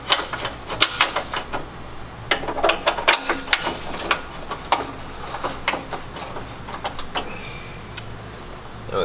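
A hand ratchet snugs a T45 fastener on a winch mount bracket of a 2015-2018 RAM Rebel, giving a run of quick, close metallic clicks in uneven bursts with brief pauses.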